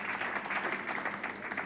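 Crowd applause after a winning bowling strike at the 1989 Goldpin Classic, a steady wash of clapping held at an even level for the whole stretch, moderately distant.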